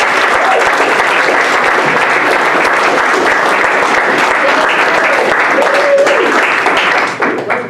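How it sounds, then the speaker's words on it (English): A church audience at a Saturday spiritual service breaks into steady, dense applause that fills the room, continuing evenly before thinning slightly near the end. "So just a round of applause for Kelly Dalhstrom, please."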